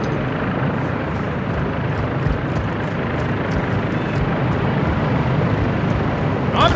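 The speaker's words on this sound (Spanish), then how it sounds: "¿Oyes eso? Un helicóptero." A helicopter in the video game Cartel Las Almas drones steadily throughout, a dense, loud rotor and engine roar with no talk over it.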